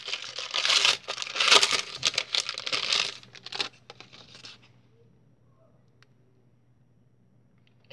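A foil hockey card pack is torn open and unwrapped up close, with loud crinkling and tearing bursts for about four seconds that trail into near silence.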